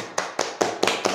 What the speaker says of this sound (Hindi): इनके लिए ताली हो जाइए